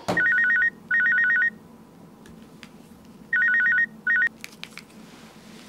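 A telephone rings in four bursts of warbling electronic trills, two close together, then a pause, then two more, clear and alone against a quiet indoor background with a few faint clicks.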